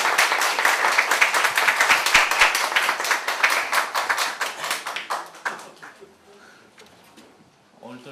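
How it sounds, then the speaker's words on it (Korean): Audience at a Gyeonggi provincial party convention for the New Progressive Party gives a loud, dense round of hand clapping for a chair candidate, which thins and fades away after about five seconds, leaving near quiet. "큰 박수로 맞아주시기 부탁드립니다"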